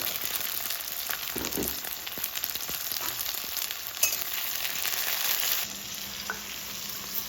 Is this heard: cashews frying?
yes